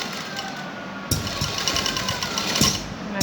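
Sewing machine stitching a decorative cord into a garment neckline, its rapid, steady mechanical whirring running loud and close through most of the stretch after a quieter start.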